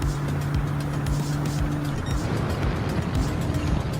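Alfa Romeo Giulia GTAm (2020) engine at full throttle in Gran Turismo 7 during a time trial at the Red Bull Ring: a loud, steady, droning engine note with a sustained tone for the first half, alone without talk.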